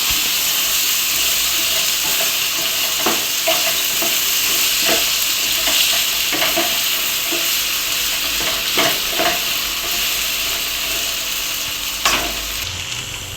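Cut potatoes being stirred while frying in a pan, a loud steady sizzle with repeated scraping strokes of a spoon at an even rhythm, no talking.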